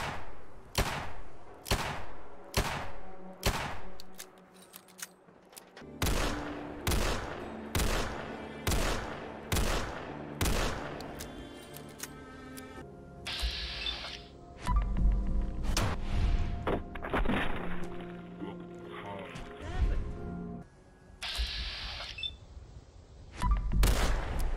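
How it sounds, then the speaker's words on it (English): Modded .44 revolver gunshots in the Fallout 4 video game, a series of sharp, loud individual shots fired in a regular rhythm, then clustered blasts with ringing tails and mechanical clatter. "take the 44 revolver and make it sound like a hybrid between the Half-Life 1 for the shot and the .357 for VATS"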